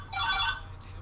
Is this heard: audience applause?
no